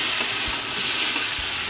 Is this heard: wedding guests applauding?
no